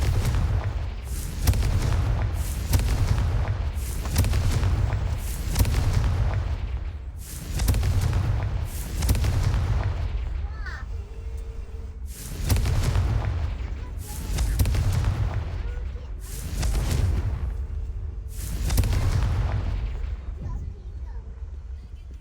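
Repeated Confringo fire-spell explosions in Hogwarts Legacy, about ten heavy booming blasts at a steady rhythm of roughly two seconds apart, each with a deep thump and a crackling fiery tail, loud and close, with no talking.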